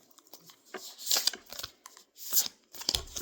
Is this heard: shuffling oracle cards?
yes